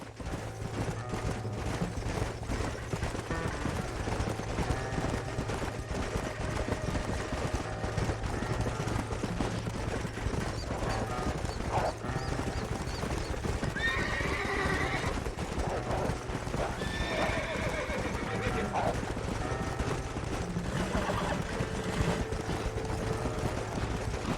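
Horses trot in the video game Red Dead Redemption with steady clip-clopping hooves while occasional whinnies and faint mechanical clanks sound over a continuous background.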